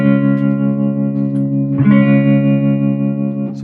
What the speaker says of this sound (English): I've got some tremolo dialed up on that.